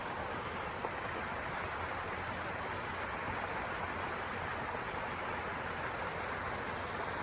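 A waterfall near Georgia's highest peak rushes in a steady, dense wash of water noise, constant and loud throughout with no talking.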